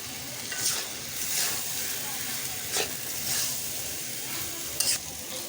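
Spoon scraping and stirring a singara vegetable filling with a boiled egg in a hot pan, a soft sizzle running throughout and several distinct scrape strokes near the mic.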